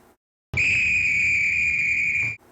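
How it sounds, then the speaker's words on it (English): A steam engine's whistle blows one long, steady, shrill note that starts and stops abruptly, loud and close, with no one talking. "that's the conductor's whistle"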